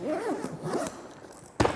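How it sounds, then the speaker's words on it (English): A zipper on a two-zip camera case is drawn in a few quick pulls up close, ending with a sharp louder rasp. "always zip them back to the middle"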